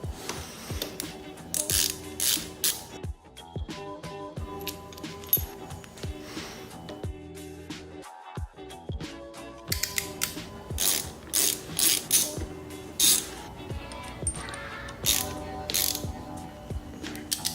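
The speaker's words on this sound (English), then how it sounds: "So all we have to do, unscrew the ends right here, pull off these stock ones, get the new ones on there" A ratchet unscrews motorcycle handlebar ends in repeated bursts of rapid metallic clicking, with short pauses and clinks between strokes, heard up close.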